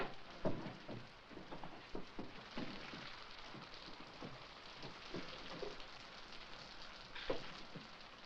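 Soft, steady rain patters on a surface, faint and continuous, with a few slightly louder drops now and then.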